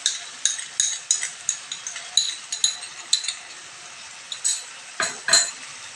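Meat curry masala with yogurt and turmeric is sautéed in a pan, with a steady soft sizzle under repeated close, rhythmic clinks and scrapes of a spatula stirring against the metal.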